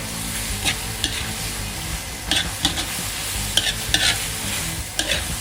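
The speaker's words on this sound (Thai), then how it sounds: "ผัดคลุกเคล้าให้เข้ากันครับ" Mixed seafood being stir-fried with sauce in a wok, a loud steady sizzle broken by repeated scraping strokes of the spatula at irregular intervals, close up with no voices.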